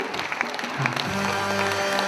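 Audience applause at a Chuvash concert for fans from Yantikovo village, steady clapping from a crowd that swells after the first second and continues evenly, with a sustained musical tone underneath.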